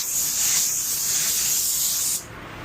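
A paint spray gun hisses in a steady, close airy blast while spraying a car bumper, then cuts off abruptly near the end.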